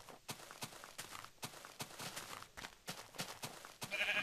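Sheep bleating in Minecraft's Aether mod, several short repeated bleats mixed with game footstep thuds, fairly quiet and without speech.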